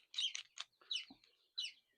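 Layer hens of mixed breeds give several short, high clucks and chirps in quick irregular bursts, close and fairly quiet, with brief gaps between calls.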